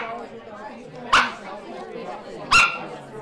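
Dogs at a canine vaccination campaign give two sharp, separate barks about a second and a half apart, close by, over a murmur of background talk.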